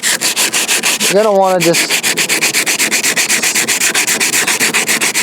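Rhythmic back-and-forth scuffing of a surface with 80-grit sandpaper, steady rapid strokes close up, with a brief voice speaking over it early on.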